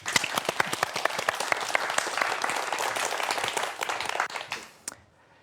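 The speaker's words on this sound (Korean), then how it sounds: "다시 한번 박 연구원님의 강연 박수로 청해 보겠습니다." A crowd claps in a dense burst of applause for several seconds after a science lecture introduction, tapering off into a few last claps before falling silent.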